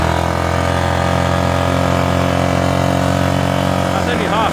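Yamaha Grizzly ATV quad engine running steadily in high range, a loud continuous mid-pitched drone that holds fairly even throughout, with a faint rising whine near the end.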